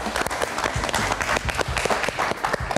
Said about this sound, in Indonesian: Kita kasih tepuk tangan sekali lagi untuk Oza.